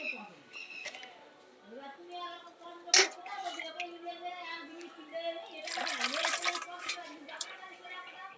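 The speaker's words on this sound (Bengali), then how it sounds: "এবার খুব ভালো করে আমি ধুয়ে নেব।" Beetroot being rinsed in a bowl of water, with light sloshing, splashes and a sharp knock near the middle, under a woman's speech.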